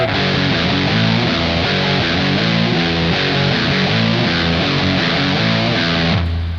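A heavily distorted electric guitar through a Sterling Vermin Rat-style distortion pedal chugs through a dense, saturated riff, loud and continuous, cutting off abruptly near the end.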